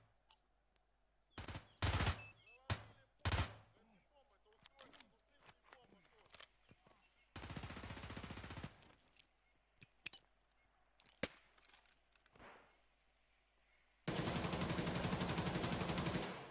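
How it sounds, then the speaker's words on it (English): AK-12 rifle gunfire in a competitive tactical shooter match, sharp single shots early, then two long, loud, dense automatic bursts, with scattered quieter impacts between, while a caster talks. "More shots from the AK-12 through the smoke"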